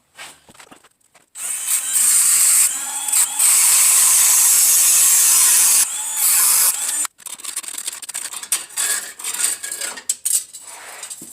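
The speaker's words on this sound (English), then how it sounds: "I'm just going to go ahead and cut the line off. And once again, I'm going to use the Dremel" A Dremel rotary tool cuts through a brake line on a Saturn S-Series car, a loud, steady high-pitched whine that runs for several seconds with brief dips, then gives way to quieter intermittent scraping and clatter.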